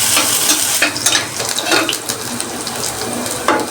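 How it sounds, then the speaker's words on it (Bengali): Onions sizzle loudly in hot oil as they are stirred in a pan, with a dense, close crackle and bursts of scraping movement throughout. "প্রথমে এই যে তেল দিয়েছি, পেঁয়াজ দিয়ে দিচ্ছি। নেড়ে চেড়ে নিচ্ছি।"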